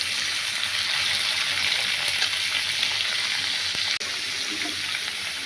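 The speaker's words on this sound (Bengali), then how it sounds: "প্রথমে পেঁপেটা দিয়েছি, পেঁপে দিয়ে নাড়ছি এখন।" Papaya pieces frying in a pan for a Bengali vegetable curry, a steady dense sizzle throughout with faint stirring scrapes and a single sharp tap near the end; no voices.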